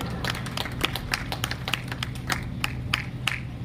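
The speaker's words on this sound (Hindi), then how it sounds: "बजा लो ताली, अपने लड़की के लिए जोर से बजा लो।" An audience at a Shrimad Bhagavat Katha gathering claps in a loose, rhythmic pattern, sharp individual claps spaced a few tenths of a second apart over a low steady hum, moderately close and fairly soft.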